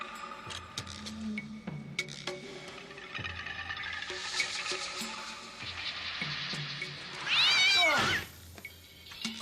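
A cat meows in a drama scene, with one clear, loud, drawn-out wavering meow near the end rising over a busy background of music and room noise.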